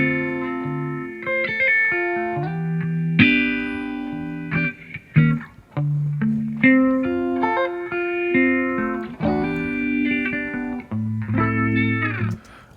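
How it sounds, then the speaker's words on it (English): Clean electric guitar melody with a light phaser sweep, played as an unwarped clip in Ableton Live; sustained chords and single notes ring out steadily and fairly loud with no voices. "Here's this guitar clip unwarped."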